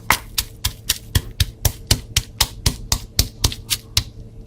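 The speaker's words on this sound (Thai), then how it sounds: "กระเทียม พริกไทย แล้วเราก็ตำเลยนะคะ" A pestle pounds coriander root, garlic and pepper in a mortar, about fifteen sharp, evenly spaced thuds in a steady rhythm, close and fairly loud, before stopping.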